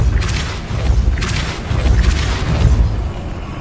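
Depulso spell blasts fired in Hogwarts Legacy gameplay: three heavy booming bursts with airy whooshing tops and deep rumble, spaced about a second apart, loud and near over continuous low background noise.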